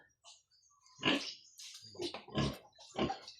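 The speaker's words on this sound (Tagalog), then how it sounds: "Liguan ng baboy." A pig being bathed on a hot day gives several short grunting squeals in a loose rhythm, close but fairly quiet, with splashy rustling between calls.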